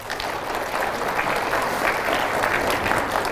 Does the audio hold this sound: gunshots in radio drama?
no